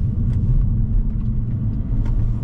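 A BMW Alpina B4 S BiTurbo cabriolet accelerates with a deep, loud, continuous engine rumble that stays strong and fairly even throughout, with no voices.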